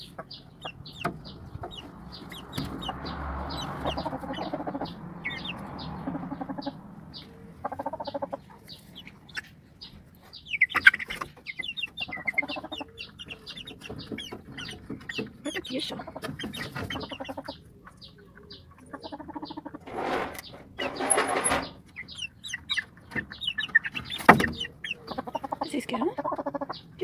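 Backyard chickens cluck and murmur in scattered bursts over several seconds, with occasional louder squawks standing out against a quiet outdoor background.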